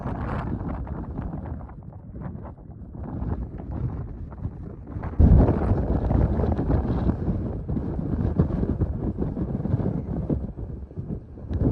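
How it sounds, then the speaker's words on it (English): Strong gusting wind buffets a microphone on an exposed mountain trail near Chimney Pond, giving a loud, rumbling roar that surges harder partway through and continues steadily, with no voices. "Feeling windy."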